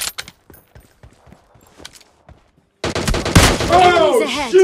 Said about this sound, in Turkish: Arkadaşı bana sıkıyor.